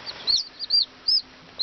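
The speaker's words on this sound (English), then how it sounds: "I've got a mix of little babies in here, different varieties of Bantam chickens" Baby Bantam chicks of mixed varieties, cold and newly brought home, give a few short high peeps in separate bursts, close by and fairly soft against a quiet background with no talk.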